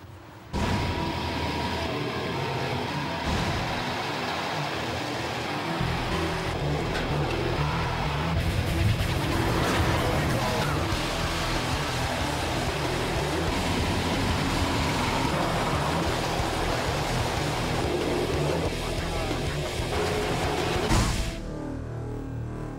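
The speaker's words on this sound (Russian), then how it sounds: "Далее в мегамашинах поездка на крупнейшем в мире танковом тягаче." Oshkosh M1070 heavy-equipment tank transporter truck driving at the US Army's Fort McCoy in Wisconsin, giving a loud, steady engine and road rumble for about twenty seconds before cutting off abruptly.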